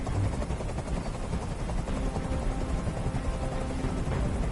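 Helicopter hovering overhead in Detroit: Become Human, a loud, steady broadband rotor roar with low thumping that fills the scene without a break.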